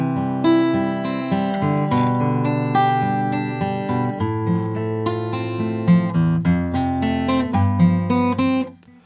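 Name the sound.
guitar playing intro of a song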